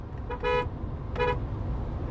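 Two short honks from a Geely EX2 car horn, each about a quarter second long, spaced well apart and standing out clearly over a low rumbling background, with a full but not shrill tone.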